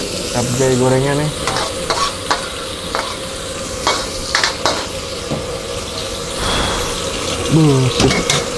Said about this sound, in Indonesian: Capcay gorengnya nih.